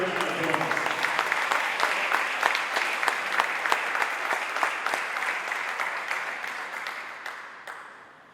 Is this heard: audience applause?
yes